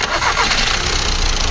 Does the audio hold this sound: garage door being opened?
no